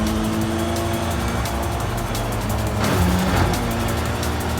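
A race car in Forza Horizon 5 drives in cockpit view, its engine droning steadily and loudly throughout, with a brief rise in revs near the end and no speech.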